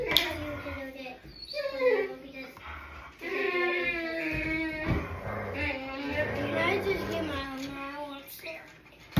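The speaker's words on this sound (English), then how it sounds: "Ignore my mouthy dogs. They're talking to each other." Dogs whine and yowl in long, wavering, high-pitched cries, trading drawn-out vocal sounds back and forth close by.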